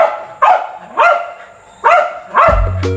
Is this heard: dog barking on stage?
yes